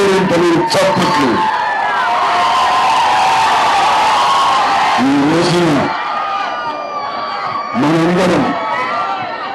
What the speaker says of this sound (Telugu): ఈ యొక్క కేకలు కేరింతలు చప్పట్లు